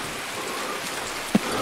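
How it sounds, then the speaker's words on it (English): Steady in-game rain in the shooter Escape from Tarkov, a soft continuous hiss of drops on surfaces with a brief louder tap near the end, no talk over it. "the rain, I love it"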